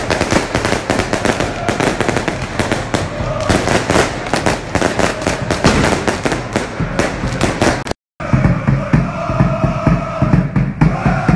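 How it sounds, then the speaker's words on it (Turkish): Rapid, loud crackling bangs of fireworks pop continuously on a street in Trnava, Slovakia, with a brief pause before the barrage resumes amid crowd noise. "Havai fişekler falan patlatıyorduk"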